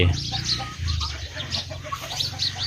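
Chickens cluck close by on a small home duck and chicken farm, a busy overlapping chorus of short clucks and low throaty calls, with a faint voice in the background.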